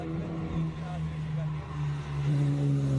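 A Jaguar C-Type classic race car climbs a hill-climb course, its engine a steady low drone with slight rises in pitch as it pulls uphill, heard at moderate distance with commentary talking over it.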